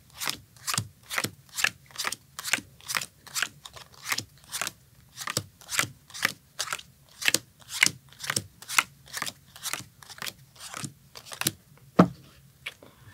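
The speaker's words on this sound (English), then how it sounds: "What you do is you deal 13 cards per side." Playing cards being dealt one at a time for whist, about twenty crisp snapping flicks in a steady, even rhythm, close and clear, with no talking.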